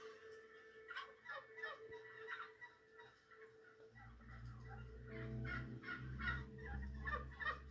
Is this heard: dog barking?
no